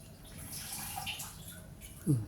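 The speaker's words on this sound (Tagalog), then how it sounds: "May tumutunog na tubig." A faint, steady rush of running water in an old cemetery in Lapu-Lapu, Cebu, with a brief low knock near the end.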